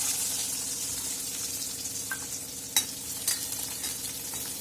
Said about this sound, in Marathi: कट केलेले आहे ते कांदे आपल्याला तेलात टाकायचे आहे